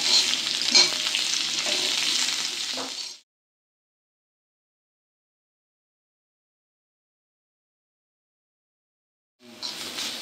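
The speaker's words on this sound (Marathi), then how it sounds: "2 कांदे पातळसे कापून घेतले होते ते या तेलामध्ये ऍड करून घेते। कांदा चांगला ब्राऊन कलर येईपर्यंत भाजून घ्यायचा।" Thinly sliced onions fry in hot oil until brown, giving a loud, steady sizzle that stops abruptly after about three seconds, then returns briefly near the end.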